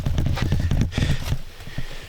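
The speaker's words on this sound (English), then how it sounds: "I've been hearing him galloping around out behind" Hooves gallop outdoors among rocks, a rapid, loud, close run of rhythmic thudding footfalls that rolls steadily before easing slightly toward the end.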